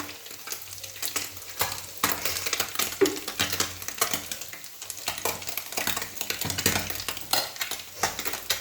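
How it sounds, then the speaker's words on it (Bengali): Chopped potatoes lightly frying in a karahi, a steady close sizzle with occasional stirring scrapes and clinks of a utensil against the pan, continuous throughout. "সেই আলুগুলো আমি হালকা করে এখানে একটু ভেজে নেব।"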